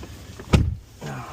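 A Ford F-150 Harley Davidson Edition 4x4 sunroof motor whirs open in a short electric burst, a close mechanical hum that fades before a softer second motor tone.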